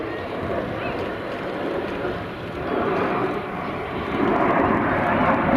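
A BAE Hawk T2 jet training aircraft roars past at an air show with a broad, steady rumble of engine noise that swells louder toward the end, heard alone without talk.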